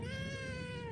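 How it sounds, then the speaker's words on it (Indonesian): A cat gives a single drawn-out meow, fairly close and moderately quiet, with no talking. "ada kucing nih guys"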